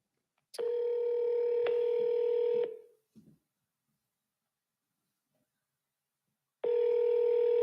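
Telephone call tone heard through the handset: a steady ringback tone lasting about two seconds, a brief faint click, a long silence, then the tone starting again.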